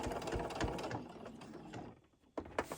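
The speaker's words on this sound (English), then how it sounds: "we're going to sew around the fabric 1/4 inch" A sewing machine stitches a quarter-inch seam around fabric for a small lip balm holder, whirring rapidly and steadily up close. It slows and stops near the end, followed by a few short mechanical clicks.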